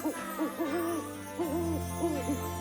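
An owl hoots repeatedly at night in a cartoon, several wavering calls in two short bursts, fairly faint and heard alone.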